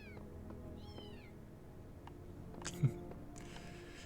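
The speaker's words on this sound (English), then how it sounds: "We've freed a cat, and that will come back later" A cat meows in The Talos Principle video game. There are two short, faint meows early on, heard over a quiet ambient game background. Later come a few brief clicks and a soft hiss.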